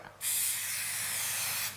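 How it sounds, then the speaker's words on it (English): Olive oil sprayed onto a cob loaf before oven crisping: one steady, loud aerosol hiss lasting about a second and a half, alone with no talk. "Let's even give the Cob Loaf a bit of a spray with a bit of olive oil to make it go crispy without going hard"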